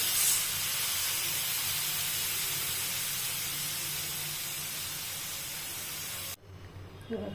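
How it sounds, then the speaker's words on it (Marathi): Water in a pan on the stove, heating for stuffed capsicum, rises to a boil with a steady, close, broadband hiss and bubbling that cuts off abruptly near the end, leaving a quieter room. "मस्त उकळी आलेली आहे"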